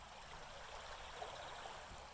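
River water flows steadily beneath a rope swing, a soft continuous babbling rush that stays faint and even throughout with no talking.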